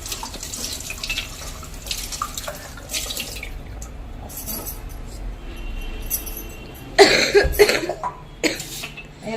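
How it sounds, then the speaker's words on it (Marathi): Clay pots being washed under a running kitchen tap, with a steady water stream broken by louder splashing bursts toward the end, alongside a few nearby coughs. "मी हे सुगडे ना धुवून घेते छान नळाखाली असे"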